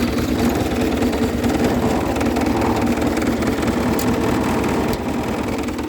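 A John Deere 200 series garden tractor runs at full throttle in first gear, a steady, loud, dense engine drone held without a break for the whole stretch, with no one speaking.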